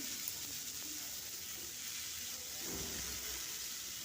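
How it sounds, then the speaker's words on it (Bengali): Onion, potato, cauliflower and peas frying together in a pan give a steady, even sizzle with faint stirring noises throughout. "পেঁয়াজ আলু ফুলকপি মটরশুঁটি সব একটু ভেজে নিলাম"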